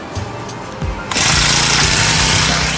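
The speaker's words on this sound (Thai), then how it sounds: "ปิดสวิตช์แล้วลองสตาร์ทอีกที" A Honda brush cutter engine with a customer's original carburetor is pull-started, a few faint tugs giving way to a sudden catch into a loud, steady high-revving two-stroke roar that runs to the end.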